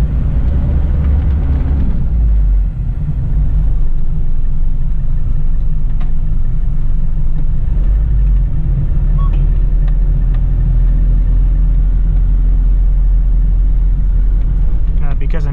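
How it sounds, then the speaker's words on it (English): The 1985 Toyota Hilux Surf SSR LN61 with its turbo diesel engine runs with a steady, loud low rumble heard from inside while driving, and someone talks over it throughout. "this engine without the turbo would be glacial"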